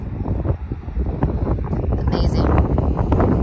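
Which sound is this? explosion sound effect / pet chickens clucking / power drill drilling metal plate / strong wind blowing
strong wind blowing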